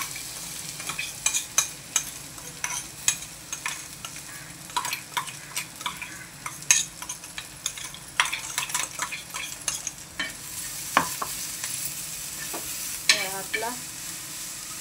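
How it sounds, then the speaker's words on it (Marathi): Ingredients for thecha fry on a hot griddle with a crackling sizzle, punctuated by frequent clicks and scrapes from stirring against the metal, and no talk. "मस्त मस्त तव्यावर गरम करून घेतला, तळायचा"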